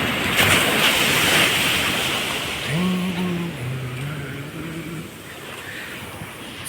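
Sea waves wash steadily onto a beach beside a Sunday football game, a broad continuous surf roar with wind noise, while a faint bird call or distant tonal sound rises briefly in the middle.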